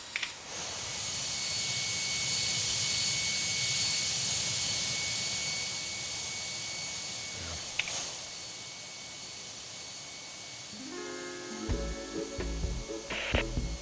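A KLM jet departs in the Tower! Simulator 3 airport game, a loud, steady engine roar that swells and holds, then fades. Brief wooden knocks and clicks follow near the end.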